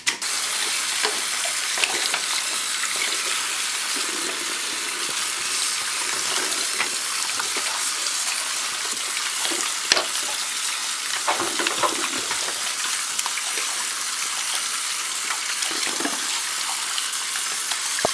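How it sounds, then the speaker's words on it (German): Dyson deep clean electric brush head being washed in a water or soapy bath, with steady splashing and swishing water throughout, close and fairly loud, with no talking. "dass wir das in Wasserbad oder in Seifenbad reinigen."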